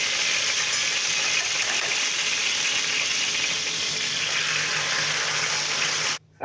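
A steady, bright sizzle of sausages frying in a hot pan runs close and constant, then cuts off abruptly at the end.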